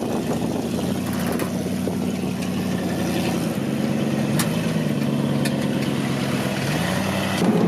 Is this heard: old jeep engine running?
yes